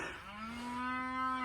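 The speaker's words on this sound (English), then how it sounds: "man, those cows are mad now" Cattle mooing close by on a farm, one long, drawn-out, loud moo with a steady tone that swells toward its end, heard alone.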